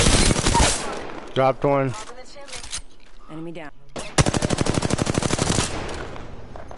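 Bursts of rapid automatic gunfire from a shooter game played on PS4, with heavy volleys early on and a long, loud rattling burst near the end, under and between spoken voice chat.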